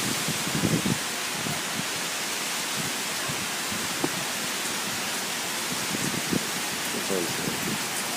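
Steady heavy rain pours down on Koh Tao in a dense, continuous hiss, with scattered drops pattering on nearby surfaces and faint low rumbles beneath.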